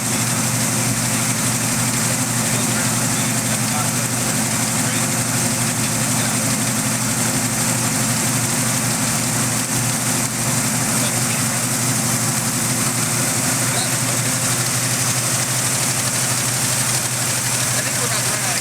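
A Ford Mustang engine idling close by, a loud, steady low rumble with constant vibration for the whole stretch and no change in pace.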